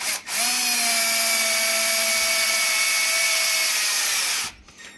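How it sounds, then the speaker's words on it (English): A power drill boring a hole into a car radiator: a steady, loud, high motor whine that starts abruptly, holds an even pitch for about four seconds, then cuts off. "continue drilling."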